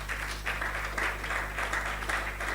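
Sustained applause from a conference audience in a large hall fills the space, with steady dense clapping that swells and dips slightly throughout, a low hum running underneath.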